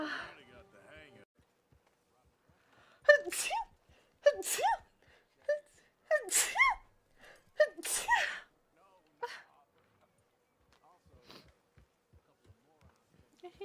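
A person with a cold lets out a rapid run of close, loud sneezes, several in quick succession with gasping inhales between them, then quieter breathing and faint sounds.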